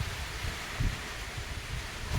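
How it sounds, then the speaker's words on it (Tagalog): Gusty wind from Typhoon Uwan roars steadily across an outdoor spot, low buffeting rumble with a couple of stronger gusts swelling near the middle and end, no talking. "Ngayon pa nga lang lakas na ng hangin"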